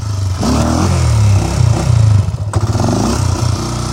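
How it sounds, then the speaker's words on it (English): A Honda 400EX quad that had sat for years runs up close and loud, its engine chugging and revving unevenly with some rattling. "I did not expect this thing would just start up and run."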